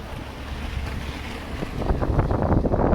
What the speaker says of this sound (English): Wind is our enemy because it makes it hard to make a video in the wind.